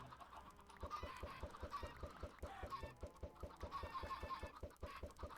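Minecraft chickens clucking in a rapid, regular stream of short pecking calls, several overlapping birds, steady and close.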